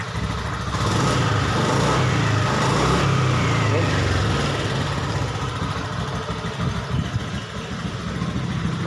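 A Honda Beat ESP motorcycle engine runs roughly with a fuel-delivery fault. It is a continuous close buzzing drone that sputters and wavers unevenly rather than holding a smooth idle.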